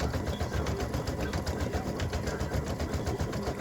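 An embroidery machine stitches a ribbon earring design at roughly 500 to 600 stitches per minute, giving a steady, fast mechanical whir and chatter that continues evenly throughout.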